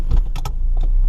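A car rolls out of a garage workshop, a steady low engine rumble with a few sharp clunks and rattles over it, close and fairly loud.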